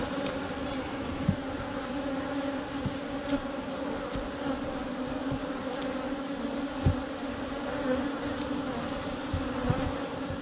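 Honeybees in an opened top bar beehive give off a steady, close, continuous buzz with a low hum, with occasional soft knocks from the hive being handled and no talking.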